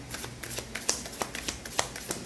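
Tarot cards riffled and shuffled by hand at close range, a run of quick papery flicks and soft slaps in uneven rhythm with no voice over it.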